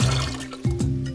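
Water pours from a jug into a bucket, a close, loud gurgling fill with a brief break and a fresh splash partway through, no talking.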